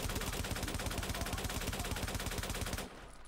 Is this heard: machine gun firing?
yes